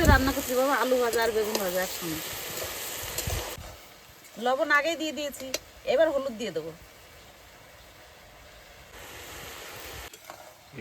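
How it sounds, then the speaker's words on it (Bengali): Potatoes and brinjal frying with onion in a pan, a steady soft sizzle running throughout while people talk over it in bursts, the frying alone and fainter during pauses. "আজকে রান্না করছি আলু দিয়ে বেগুন দিয়ে ভাজা আর গোলা রুটি"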